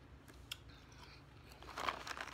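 Quiet close crunching and chewing of a strawberry-and-chocolate flavoured trail mix with Bugles, Cheetos, pretzels and Fruit Loops, with a few soft bites building to a denser crunch near the end.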